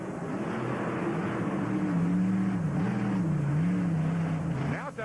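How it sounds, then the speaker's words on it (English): Monster truck engine at a Houston freestyle show, a loud continuous roar with wavering pitch across the whole stretch, surging and dipping as the truck loses momentum, a crowd-filled arena wash behind it. "Now it sounds like the motor's locked down, Kev."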